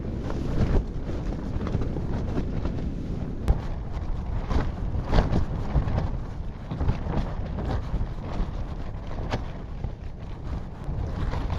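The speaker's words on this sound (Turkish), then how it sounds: "Dün geceden beri fena rüzgar var." Strong stormy wind buffets the microphone at a tent campsite in rough, rumbling gusts, with occasional sharper flaps and bumps breaking through the constant roar.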